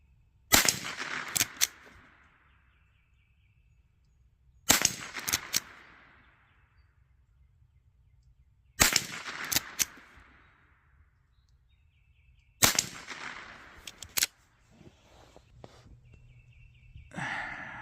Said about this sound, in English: I'm shooting the bottom of those